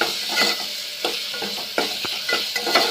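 Ginger and garlic fry in a hot pan, a steady close sizzle broken by repeated stirring scrapes and clicks of a spoon against the metal.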